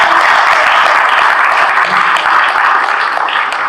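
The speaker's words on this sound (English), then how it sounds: "everybody clapping and giving a big round of applause to the team of IREX" A panel audience at the IREX 2023 investment event in New Delhi breaks into steady applause for the IREX team, a dense crowd wash of many hands clapping at once, close and loud throughout with no voices above it.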